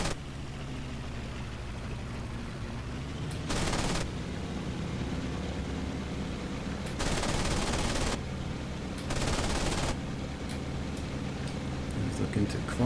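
An A6M2 Zero fighter's machine guns fire in the IL-2 1946 flight game as three loud bursts of rapid fire, the second longest, over a steady engine drone with someone talking.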